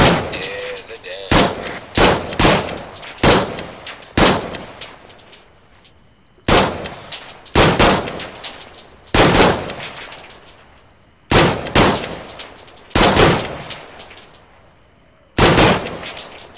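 Loud bursts of automatic gunfire laying down covering fire during a military operation in Afghanistan, about nine sharp volleys spaced a second or two apart, close and harsh, with faint voices in the background.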